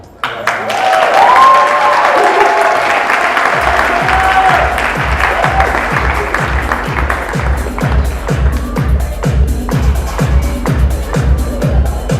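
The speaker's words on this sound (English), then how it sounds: "A nice round of applause for Ami" Guests at a wedding reception break into loud, sustained applause that swells quickly, joined partway through by a thumping beat of rhythmic music, with voices mixed in.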